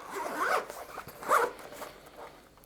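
A zipper is pulled open around a hard-shell case for Ultrasone Isar headphones, two quick bursts of rasping zip heard close up and alone, separated by a short pause.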